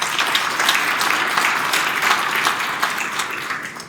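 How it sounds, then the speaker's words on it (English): Steady audience applause for members of a state legislature, a dense even patter of many hands that holds for the whole stretch and tapers slightly at the end, with no talking over it. "So please give the members of the legislature a round of applause as well."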